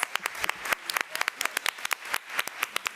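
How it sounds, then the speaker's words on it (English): Applause for a retiring trustee at a school board meeting: scattered, fairly sparse hand claps from a modest audience, quiet and close-sounding, with sharp individual claps standing out over roughly three seconds and no talking over it. "Let's give her another round of applause."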